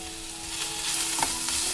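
Finely chopped tomato frying in a pan over medium flame, a steady close sizzle with a few scraping stirs near the end.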